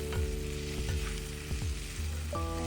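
Egg masala gravy with tomatoes simmers over a low flame, a soft constant sizzle broken by several scraping stirs of a spoon against the pan, heard close up.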